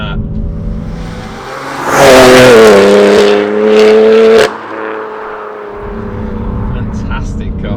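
A 520 bhp BMW M3 Competition with a Viper engine accelerates hard, its engine rising to a loud roaring peak for a couple of seconds before easing off, heard from inside the car with a voice talking at times.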